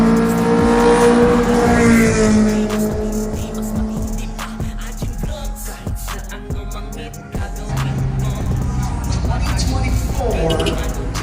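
An early-1990s Honda Civic EG hatchback engine revs at a drag racing event, mixed with other car engines, crowd noise and talking. The sound stays loud and continuous throughout, with rising and falling rev sweeps.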